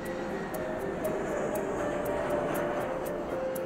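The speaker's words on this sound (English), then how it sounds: "Just because our plane going over the top right now." An airplane passes overhead above a converted barn in Boxted, Essex, a broad steady engine roar heard from indoors with a faint repeating high ticking on top.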